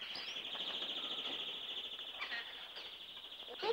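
Birds call out in alarm as a dog frightens them, a faint, continuous shrill chorus of chirps with no talking.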